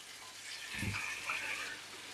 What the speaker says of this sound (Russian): Мясо надо обязательно бросать в раскаленное масло, чтобы оно сразу схватилось и начало жариться.